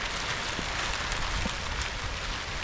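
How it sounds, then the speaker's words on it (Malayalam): Heavy rain falls during a fishing trip, a steady dense hiss of drops with faint scattered pattering on surfaces, continuous and even from start to end. "ഭയങ്കര മഴ പെയ്തു ഗൈസ്."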